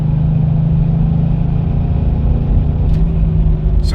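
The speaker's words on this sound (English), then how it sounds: "I'm gonna now try to accelerate harder." A car engine revving under hard acceleration, with a fault that cuts fuel near 3,500 rpm; a loud, steady low rumble and hum holds throughout with little change in pitch, recorded close from inside.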